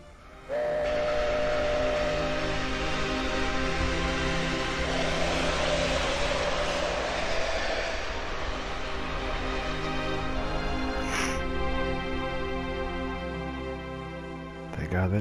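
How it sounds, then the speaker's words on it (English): A train rolls through a Final Fantasy VII game scene, a loud sustained rumble with steady harmonic drone and a whistle-like tone near the end, with speech over it. "Thank God that train came along."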